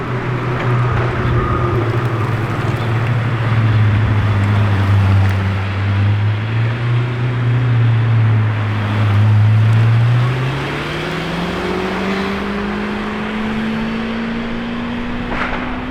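Lamborghini Temerario supercars pass outside the Lamborghini factory, their engines a loud, deep, steady drone whose pitch climbs toward the end as they accelerate away. No voices are heard.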